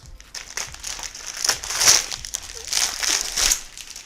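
Plastic wrapping crinkles and crackles as a Logitech G213 Prodigy gaming keyboard is pulled out of it, close up, in uneven bursts of rustling that rise and fall across several seconds.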